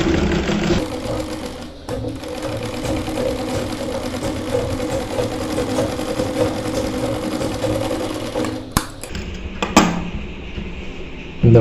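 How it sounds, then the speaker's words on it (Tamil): A sewing machine stitches a curved belt seam, its steady rapid mechanical whir running loud and continuous, then halting briefly near the end with a few clicks. "இப்போ நான் இன்னொரு தையலும் போட்டு காட்டுறேன்."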